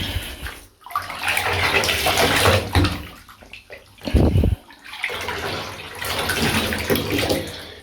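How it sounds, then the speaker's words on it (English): Running water splashes and rushes over a mermaid doll's face as it is washed, loud and close, broken by a brief pause and a short gush before the steady flow resumes. "Let's get her face all nice and washed so it's nice and clean."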